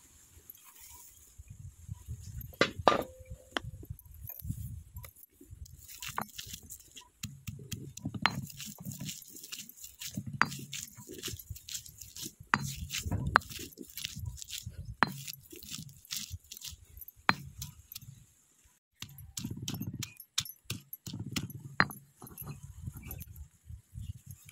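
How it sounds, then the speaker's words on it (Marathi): Garlic is crushed by hand in a home kitchen with a series of irregular, dull pounding knocks, some sharp clicks and scrapes between them, and brief pauses. "आणि तोपर्यंत इकडे मी लसूण ठेचून घेते"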